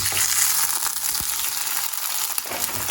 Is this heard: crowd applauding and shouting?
no